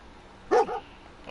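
A single sharp bark from Dogmeat, the canine companion in Fallout 4, with a quick follow-up yip, clear and fairly close against soft background game ambience.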